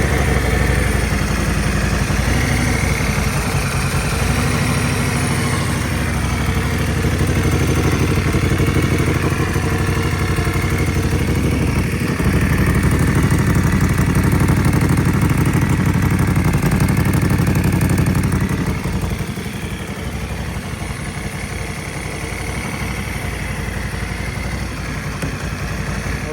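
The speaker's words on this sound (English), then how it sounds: "Okay, that was the bike running." Moto Guzzi Norge motorcycle engine running with its airbox removed, a loud, steady, close idle with a dense mechanical clatter that holds for the whole stretch and eases slightly in level near the end.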